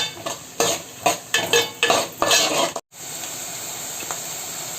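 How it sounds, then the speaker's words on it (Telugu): Onions frying in oil for a Telugu taro root tamarind curry, a steady sizzle broken by a string of rhythmic scraping stirs, then a brief cut before the sizzle continues alone. "ఉల్లిపాయని బాగా వేయించుకోవాలి."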